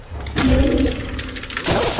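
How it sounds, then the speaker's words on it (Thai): A video game explosion bursts out as a loud, rumbling whoosh lasting over a second, then a second rougher blast starts at the very end. "เราต้องระเบิดอันนี้ครับ"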